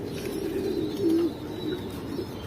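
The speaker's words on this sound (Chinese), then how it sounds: "这个小鸽子。" Domestic pigeons in a home loft, an old male kept with two females, giving soft, continuous low cooing close by, with a few louder swells toward the middle and end.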